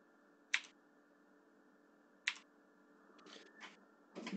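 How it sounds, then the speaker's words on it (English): A few sharp, loud keyboard clicks at spaced intervals, followed by a burst of quicker clacking toward the end, close to the microphone. "my loud keyboard"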